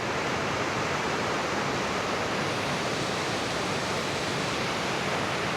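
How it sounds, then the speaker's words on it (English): A waterfall at Cat Hollow in Dayville, Connecticut rushes in a steady, dense roar of falling water, heard from a distance with no other sounds. "you can see one of the waterfalls"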